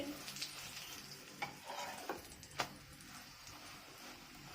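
Pumpkin paratha fries in a pan with a faint, soft sizzle, broken by a few sharp scrapes and clinks of a utensil against the pan.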